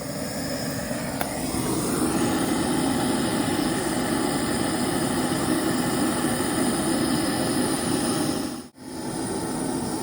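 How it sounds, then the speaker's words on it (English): A propane or MAP gas torch heats the rear leaf spring bushing bolt on a Jeep Cherokee XJ, a close, steady roaring hiss that cuts out briefly near the end before resuming. "you want to take a propane or MAP gas torch and you want to heat up this back bolt right here until it's smoking hot"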